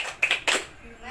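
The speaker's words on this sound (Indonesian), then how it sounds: "Ibu minta Dika untuk memimpin tepuk PPK" A class of students clapping the PPK chant in a primary school lesson, with two short bursts of claps close together and a teacher's voice around them.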